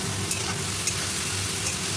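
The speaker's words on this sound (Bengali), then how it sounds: "এবারে সবজিটাও দিয়ে দিচ্ছি, সব একবারে ভাজবো।" Vegetables with onion and chili frying together in a pan, a continuous quiet sizzle and hiss with faint stirring, heard close and without talk, over a low steady hum.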